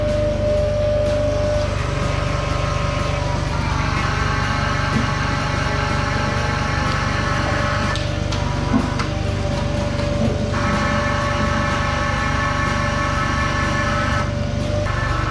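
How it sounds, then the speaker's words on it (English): A hydraulic pump runs a crane in a heavy-equipment shop during teardown of a Cat 740 articulated truck transmission, giving a steady, close mechanical hum with a constant whine and occasional clanks throughout. "let's go ahead and get our hydraulic pump running to the crane"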